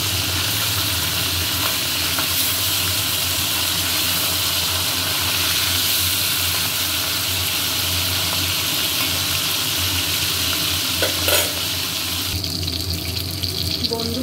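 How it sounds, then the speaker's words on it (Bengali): Hilsa fish head frying in hot oil, a steady broad hiss and crackle holding throughout, close and even, with a brief clatter near the end. "মুড়ো ভালো করে ভেজে নিচ্ছি"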